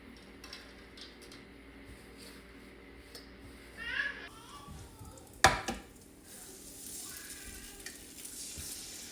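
A knife chops fried bacon into small pieces on a board, giving a few soft taps and one sharp chop in a quiet kitchen, with faint background noise.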